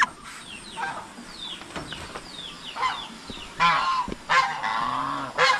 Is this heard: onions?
no